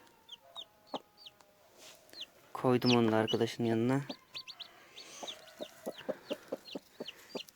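Newly hatched chicks peep in high, rapid chirps throughout, close by, while a person speaks briefly in the middle.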